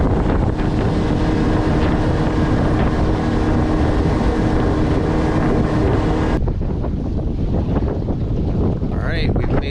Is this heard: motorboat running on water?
yes